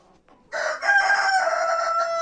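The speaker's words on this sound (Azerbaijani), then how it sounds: "Toyuqlarımız" A rooster crows up close inside a chicken coop, one loud sustained call with a sharp onset, after faint clucking at the start.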